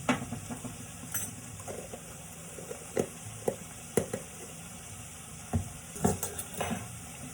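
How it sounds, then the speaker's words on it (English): Sofrito and sausage sizzle softly in a pot while a spoon stirs them, making scattered scraping taps and light clinks over a steady frying hiss. "We're going to stir this around,"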